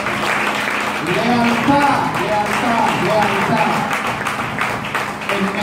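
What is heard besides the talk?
congregation applause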